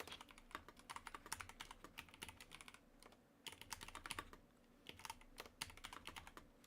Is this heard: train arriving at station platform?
no